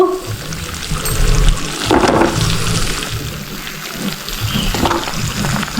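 Raw mango pieces go into hot sugar syrup with oil, giving a steady wet, bubbling sizzle with a brief louder splash partway through. No voices are heard.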